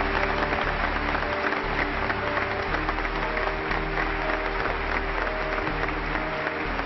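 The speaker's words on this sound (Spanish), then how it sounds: "de los miembros del Congreso reaccionó como siempre aplaudiendo al presidente" Members of Congress applaud the president in a 1982 session, a dense, sustained roar of clapping from a large crowd that continues without a break.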